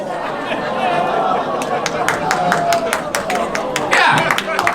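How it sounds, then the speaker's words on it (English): Audience clapping at a comedy roast of Santa after a joke, scattered claps growing denser over crowd chatter and laughter, with a voice talking through it. "I think clapping was right on that one"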